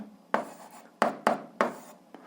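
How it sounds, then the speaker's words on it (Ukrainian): Pen or pencil writing an algebra answer by hand on paper, heard as four short scratchy strokes with a fainter fifth, close and isolated, with no talking. "Ну і записуємо відповідь, пишемо відповідь."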